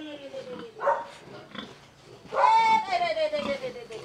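Pigs being raised at a rural Vietnamese home give grunting, squealing calls up close, including a long drawn-out squeal, while people talk alongside.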